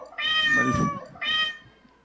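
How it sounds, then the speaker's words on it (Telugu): A cat meows twice, a long clear cry followed by a shorter one, loud and close with a brief pause between. "పాపం అది మన ఇక్కడికి వచ్చిన పిల్లి అండి, వీళ్ళు వేసిన పిల్లి కాదు"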